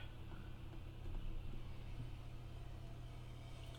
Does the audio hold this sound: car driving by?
yes